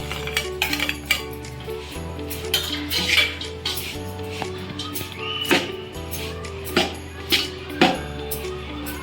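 Fried cashew slices tipped into a ragi flour ladoo mixture in a metal vessel, with repeated clanks and scraping of a spoon against the dish in an irregular rhythm, close and fairly loud.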